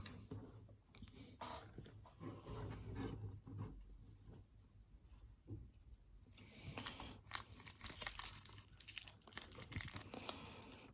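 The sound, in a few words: opening wrapped packs of 1995-96 Topps Gallery basketball cards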